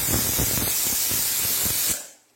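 Steam pressure cooker whistle venting while jackfruit seeds boil inside, a steady loud hiss held for about two seconds before it cuts off sharply.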